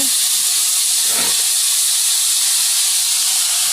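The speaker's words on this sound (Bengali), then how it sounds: "আর এদিকে শাক এই যে ভাজি চলছে এখনো।" Leafy greens frying in hot oil give off a steady, bright hiss and sizzle that runs throughout, with one brief soft knock partway through.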